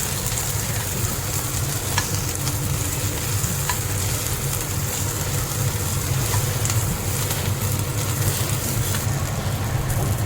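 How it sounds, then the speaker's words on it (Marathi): Okra (bhindi) sautéing in a spice mixture for bhendichi bhaji, giving a steady, close, dense sizzle with a low rumbling undertone and occasional faint stirring clicks, with no talk. "भेंडी या मिश्रणामध्ये परतून घ्यायची आपल्याला।"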